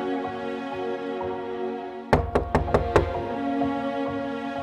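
Five quick knocks on a door in the Roblox Brookhaven roleplay game, crisp and evenly spaced, standing out over a constant background music bed.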